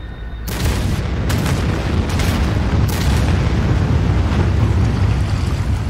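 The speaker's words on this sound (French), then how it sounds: "Bombe activé. Nucléaire en cours." In the video game EvolPad, a nuclear bomb explodes with a sudden loud boom that swells into a sustained, roaring rumble. Several further bursts punch through the dense, continuous blast noise.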